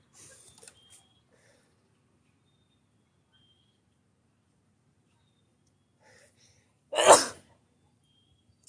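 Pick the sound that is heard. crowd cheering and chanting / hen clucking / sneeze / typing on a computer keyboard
sneeze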